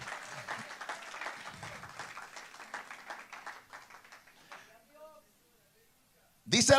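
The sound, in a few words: congregation applause in church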